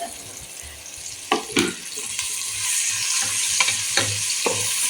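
Sliced onions and green chillies sizzle and fry in a pan for ghee rice, a steady close crackle broken by a few sharp stirring scrapes, with no one speaking.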